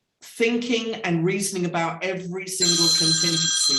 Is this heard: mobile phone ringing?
yes